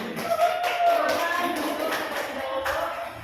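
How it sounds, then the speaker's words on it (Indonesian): A classroom of students claps for a group after a presentation, a short burst of scattered hand claps under overlapping chatter and voices. "Tepuk tangan semuanya."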